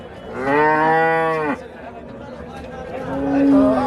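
A dairy cow at a cattle sale gives a loud, drawn-out moo, then starts a second lower moo, over background crowd chatter and nearby talking.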